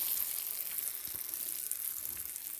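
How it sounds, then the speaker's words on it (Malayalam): A jackfruit curry with roasted coconut is stirred in a hot pan, giving a soft, steady sizzle and faint scraping that stays quiet and close throughout. "നന്നായിട്ട് ഒന്ന് ഇളക്കി കൊടുക്കുക"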